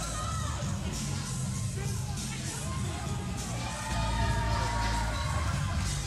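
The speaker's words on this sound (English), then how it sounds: "As the crowd shouting DHS there." A Brooklyn wrestling crowd shouts and cheers during a tag-team match, a dense, continuous roar of voices with chanting that swells slightly louder toward the end, filling the whole stretch.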